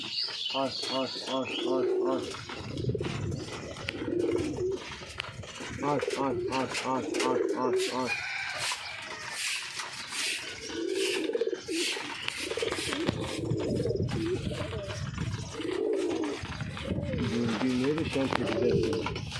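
Pigeons coo repeatedly in rhythmic bursts close by, while a person talks over them.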